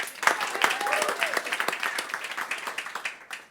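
A burst of steady applause with many hands clapping throughout, fairly close and busy, fading out at the very end.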